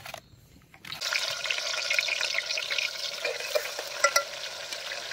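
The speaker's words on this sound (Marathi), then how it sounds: "अद्रक लसूण पेस्ट छान असं फ्राय करून घ्यायचं." Ginger garlic paste frying in hot oil for an egg masala, a bright, steady sizzle that starts after a near-silent first second and keeps going with stirring scrapes and a couple of louder crackles, no talk.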